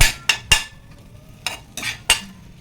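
Garlic dropped into hot cooking oil, with quick bursts of spoon scraping and clinking against the pan in an uneven rhythm over a faint background sizzle, close and clear.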